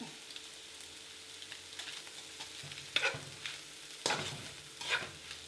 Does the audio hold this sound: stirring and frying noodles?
yes